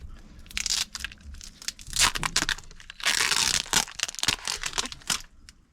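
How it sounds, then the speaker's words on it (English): Tape peels off a distributor being installed in a 1973 Toyota FJ40 Land Cruiser, giving close, loud tearing and crinkling rips in several uneven pulls with short pauses between them and no talking. "Now we'll pull the tape off."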